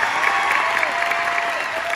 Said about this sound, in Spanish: Y fuerte el aplauso para la racita de aquí en Mexicali